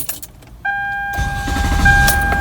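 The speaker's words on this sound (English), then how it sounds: "So here we are starting it." Toyota Camry V6 being started: after a brief quiet moment a dash chime tone comes on, then the starter cranks and the engine catches into a steady, rising idle close by.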